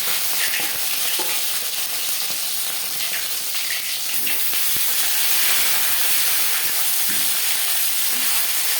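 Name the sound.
marinated fish head frying in hot mustard oil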